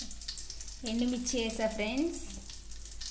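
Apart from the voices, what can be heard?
dried red chillies sizzling in tempering oil for gongura chutney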